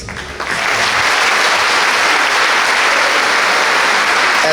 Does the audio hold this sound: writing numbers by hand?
no